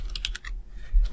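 Keys clatter on a computer keyboard in a quick burst of several clicks, close and distinct, then pause before a final soft tap; no voice is heard.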